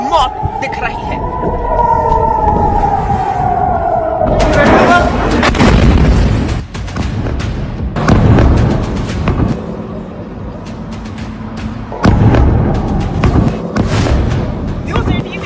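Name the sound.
Iranian missile strikes exploding over Tel Aviv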